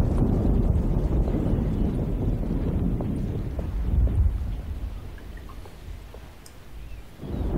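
Stormy weather in the game Alone in the Dark: a steady roar of wind and rain with low rumbling thunder swells, loud and continuous throughout, easing slightly near the end before rising again.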